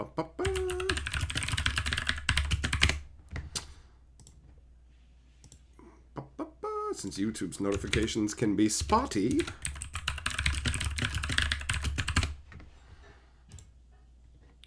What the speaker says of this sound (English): Let us do some typity typing.